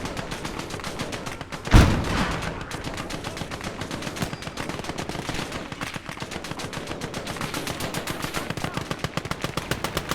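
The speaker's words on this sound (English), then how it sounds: "there's our machine gun on the Whirlwind, lighting up the Greyhound" A vehicle-mounted machine gun on a Whirlwind fires at a Greyhound armored car in a combat setting, a rapid continuous stream of sharp shots with one heavier blast near the start.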